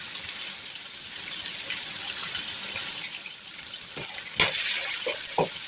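Ground spices such as turmeric, red chili powder and Kashmiri chili powder roast in a pan for a vegetable dish, giving a steady soft sizzle with a few light clinks of a spoon near the end.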